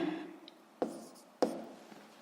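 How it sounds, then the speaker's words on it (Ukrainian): Pen or chalk writing on a surface during a physics lesson, a soft scratchy stroke sequence with two sharper taps, close and fairly quiet, with no talking. "Записуємо А."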